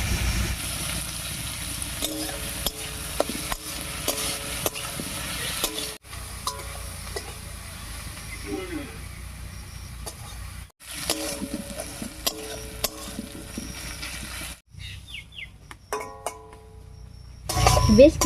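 Spices with chopped tomato fry and sizzle in hot oil while being stirred, a steady crackling hiss broken by scraping utensil strokes and a few brief pauses, with a louder burst of sizzling at the end.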